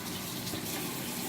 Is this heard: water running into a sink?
yes